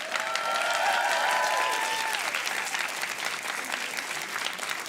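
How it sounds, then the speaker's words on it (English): Loud, steady crowd applause after a rumba performance at a university dance show, with a whoop rising early over the dense clapping that continues evenly to the end. "A huge round of applause."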